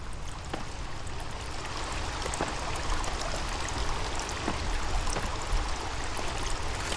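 Steady broadband rush of a flowing stream in The Forest video game, continuous and moderately loud with faint splashy ticks throughout, no voices.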